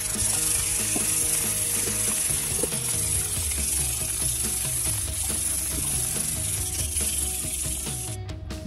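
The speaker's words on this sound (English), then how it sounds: "I'm done pre-polishing up to 2500 grit." Hand polishing of fossilised coral with abrasive up to 2500 grit makes a steady, close, gritty rasping that runs unbroken throughout, with a thin high whine above it and no voices.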